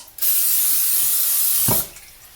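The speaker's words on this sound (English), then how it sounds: "So I'm going to spray Pam into my pan again, just so that the egg doesn't stick." Pam cooking spray is sprayed into a pan on medium-high heat as a single close, loud hiss lasting about one and a half seconds, with no talking.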